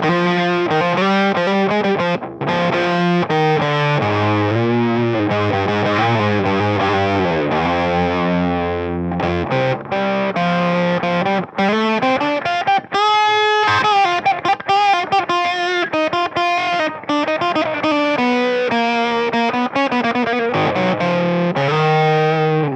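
Electric guitar through a Mythos Argo Octave Fuzz pedal playing in the mid-range, a thick, saturated octave-fuzz tone with sustained notes and bends, loud and continuous with no talking.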